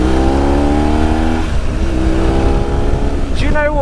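A 2004 BMW R1200GS motorcycle engine pulling away in first gear on an off-road green lane at a hairpin bend, a loud close steady engine drone rising in pitch, with someone talking over it.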